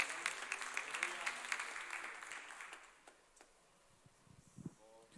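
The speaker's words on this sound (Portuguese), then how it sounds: "Aplauda o nome do Senhor Jesus." A church congregation applauding during a sermon, a dense patter of clapping that is loudest at first and fades out after about three seconds, with a few scattered claps and a voice afterward.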